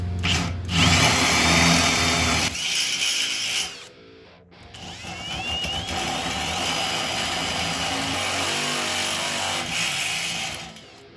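A power drill bores a hole through pipe for a side-by-side roof build, a loud continuous whirring grind with broadband rasp, briefly stopping near the middle before running steadily again.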